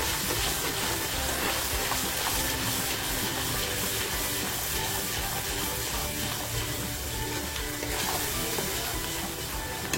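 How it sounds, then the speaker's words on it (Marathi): Fish masala with Kashmiri red chilli and ground paste frying in oil for a smoky tol fish dish, a steady dense sizzle and hiss running without a break, close and fairly loud, with no talking. "तेल बाजूला होईपर्यंत मी फ्राय करणार आहे।"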